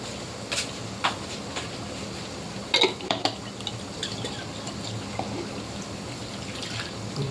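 Scattered metal clinks of a utensil scraping and tapping inside a pot of chicken with water, over a steady hiss of background noise.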